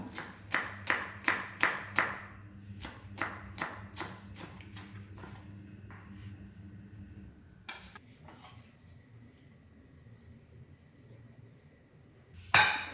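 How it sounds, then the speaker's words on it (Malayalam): Knife chopping spring onion stems on a cutting board: a rapid run of sharp, close taps at the start, then slower scattered strokes, fading to quieter handling before a final sharp knock. "പൊടിയായിട്ട് അരിഞ്ഞെടുക്കുക"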